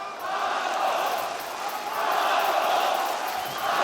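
An esports arena crowd at a Counter-Strike quarter-final match cheers loudly and continuously, a broad roar of many voices swelling and holding throughout.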